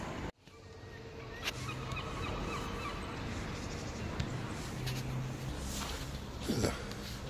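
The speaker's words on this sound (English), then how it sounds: "Hello, Mr. and Mrs. Mallard." Mallard ducks on a canal call with a few short honking quacks, the loudest near the end, over steady wind-like outdoor noise on a walk beside the water.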